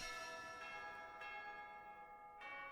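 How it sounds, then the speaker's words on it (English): A church bell in Fire Emblem: Three Houses plays the Fire Emblem theme, its sustained ringing tones overlapping steadily with a few fresh strikes every second or so, at moderate level with no voices. "That's still the Fire Emblem theme on the bell."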